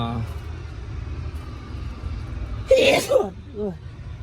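A loud, close sneeze bursts out once over the low rumble of an idling engine around used vehicles imported from Japan, with a voice afterwards.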